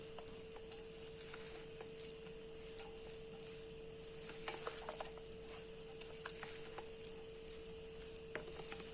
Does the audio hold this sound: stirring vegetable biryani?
yes